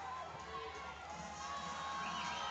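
A crowd at a high school powerlifting nationals cheers and shouts in a continuous, fairly distant roar that stays even throughout, with no single voice standing out.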